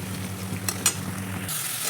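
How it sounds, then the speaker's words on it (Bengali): Onions and spices being sautéed in a little oil in a pan for a mustard-paste fish curry, a brief close sizzle with light stirring clinks, the hiss swelling brighter near the end. "মশলা দিয়ে পেঁয়াজটাকে খুব ভালো করে একটু কষে নিলাম"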